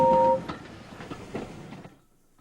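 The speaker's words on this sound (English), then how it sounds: "All he could do was watch the trains rushing through the other tunnel." A train rushes through a tunnel, a steady rumbling roar with a brief high tone at the start, fading out near the end with no voices.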